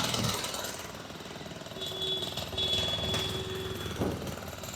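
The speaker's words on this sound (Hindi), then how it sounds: "ये ड्रिल मशीन द्वारा जो है जनरेटर लगा के इसको तोड़ा जा रहा है।" Generator-powered drill machine breaking down a house during demolition: a continuous mechanical drone with a steady whine and intermittent hammering bursts, close and fairly loud, without speech.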